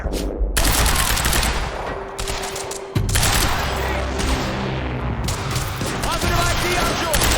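Sustained automatic gunfire in the shooter video game Quantum Break, a loud dense fusillade of rapid shots and booms filling the whole stretch, with shouted combat voices mixed underneath.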